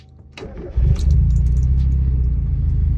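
A Mazda MX5 NA that has sat unused for two weeks starts up: keys jingle, then the starter cranks briefly and the engine catches into a loud, steady, close idle rumble.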